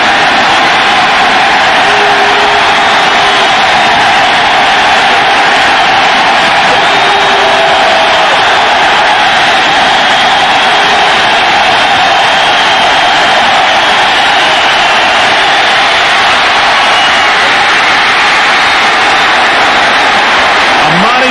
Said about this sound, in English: we'll just go silent, and the crowd will let you know what happened